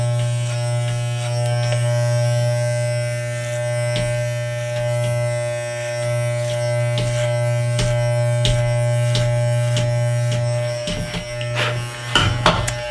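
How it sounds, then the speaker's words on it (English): Electric hair clippers buzz steadily while cutting and edging hair around the ear during a home haircut, with small bumps and scrapes of the blade against the head toward the end. "make sure that that clipper blade is all the way down, and you're going to edge along your ear"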